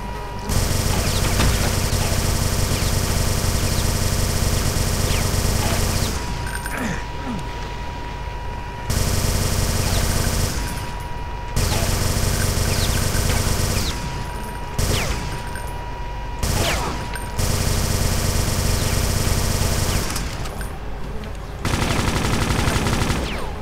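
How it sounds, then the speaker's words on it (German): Loud, sustained automatic weapon fire from the Brutal Doom game fills long stretches, with heavy rattling bursts broken by short pauses and explosive crashes, played alone without talk. "Also wieder mal rumschießen."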